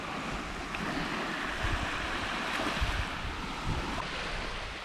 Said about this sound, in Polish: Tuż nad morzem.